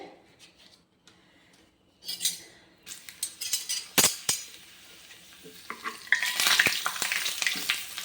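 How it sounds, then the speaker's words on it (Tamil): Papad sizzles in hot sesame oil in quick bursts, with the clink of a utensil against the pan and stirring sounds close by. "இப்போ அப்பளத்தை பொரித்து எடுத்துக்கலாம்."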